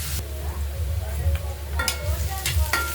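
Onions fry in a pan for a fenugreek leaf and tomato curry, a close, steady sizzle broken by a few sharp scrapes and clinks of a spoon stirring.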